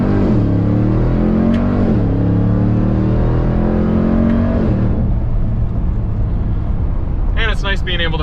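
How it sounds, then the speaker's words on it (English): Supercharged V8 exhaust of a 2021 Ram TRX pickup truck revving and pulling hard, a loud deep drone rising in pitch in steps as it climbs through gears, heard from inside the cab. "it's nice being able to have the rear window open a little bit so you can hear all that melodious exhaust"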